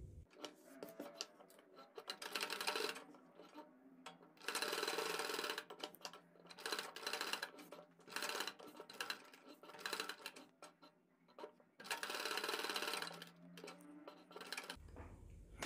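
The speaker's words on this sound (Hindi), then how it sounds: "हम पैटर्न के चारों तरफ इधर और इधर सिलाई लगाकर" A sewing machine stitches around a pattern on a kurti neck, running in repeated bursts of one to two seconds separated by brief pauses, close and clear.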